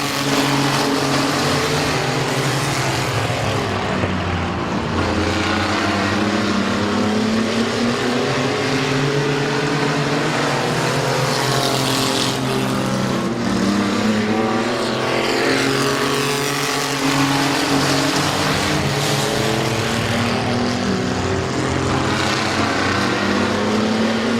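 Race cars roar around the Midvale Speedway oval, engines droning loudly and continuously as several cars pass close by, with rising and falling pitch as they sweep through the turns.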